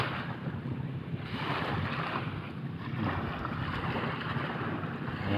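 Choppy water on Laguna lake sloshes and slaps continuously while wind buffets the microphone, a loud, rough, unbroken outdoor roar.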